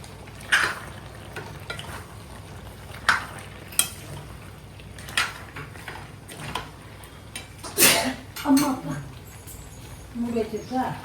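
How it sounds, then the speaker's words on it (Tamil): Country chicken curry is stirred in a pan with a spoon, making intermittent scraping and clinking sounds over a soft sizzle, while a person talks throughout. "இப்போ இதை வந்து நம்ம கிண்டிடுவோம்"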